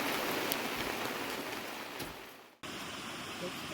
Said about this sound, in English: Wait for a nice West Coast rain.